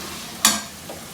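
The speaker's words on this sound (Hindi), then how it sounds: "दरमियानी आग पे हमने इसकी भुनाई करनी है।" Chicken and masala frying in a pan over medium heat, with one sharp scrape or sizzle burst that fades back into a quiet background hiss.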